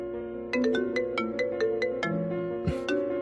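A phone ringtone for an incoming call plays a bright, repeating melodic pattern of short tones over a steady musical bed from a Tagalog-dubbed drama, loud and close with no talking.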